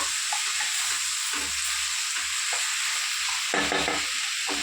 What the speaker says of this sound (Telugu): ఉప్పు వేసుకొని ఒకసారి కలిపి కొంచెం మగ్గబెట్టేసుకుందాం.